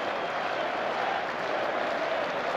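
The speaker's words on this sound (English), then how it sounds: "The crowd are going off." Cricket crowd at a test match cheering and applauding after a yorker takes a wicket, a dense, steady wash of clapping and roar with no break from start to finish.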